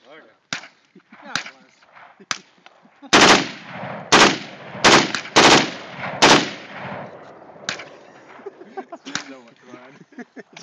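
Gunfire at an outdoor shooting session, roughly twenty rounds: loud sharp reports in quick clusters through the middle, with scattered fainter shots and some talk around them.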